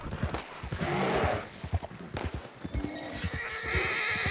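Horse neighing and galloping hooves in a video game, a loud whinny followed by rapid clip-clop footfalls throughout, with other game sounds mixed in.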